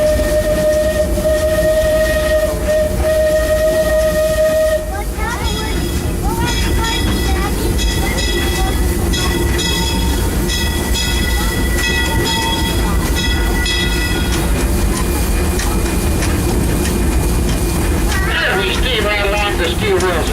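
The Disneyland Railroad steam train rumbles steadily along the rails with a whistle at the start, clanking and hissing throughout while voices talk over it.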